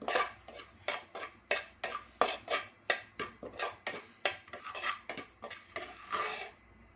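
Chiroti rava roasting in ghee in a pan, heard as a rapid rhythmic series of scraping strokes from a spoon or spatula stirring against the pan, close and regular with no talking.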